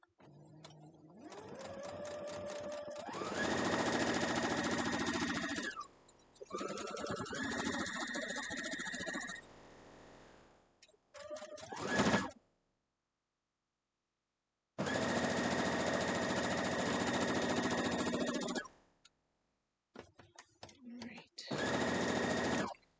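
A sewing machine stitches a quilt block seam in bursts of fast, steady mechanical whirring, stopping and restarting several times with brief pauses and small handling noises between runs.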